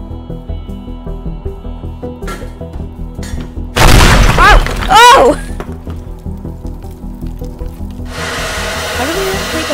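A loud explosion in the video game Teardown blasts a hole open, bursting out with a heavy boom and crackling debris for about a second, set against steady game ambience and scattered knocks.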